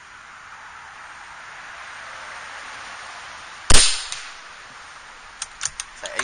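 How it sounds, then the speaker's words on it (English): A single sharp crack from an Air Venturi Avenger .25 air rifle firing a 23 grain Griffin slug, loud and close over a quiet hiss, followed by a few small clicks of handling. "We have 4 coming up of the 23 grain Griffin airgun ammo slugs"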